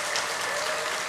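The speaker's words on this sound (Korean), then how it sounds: "박수 한번 다시 한번 주세요" Audience applause at a church adult Bible school event, a dense steady patter of many hands clapping throughout, fairly close and alone without talk.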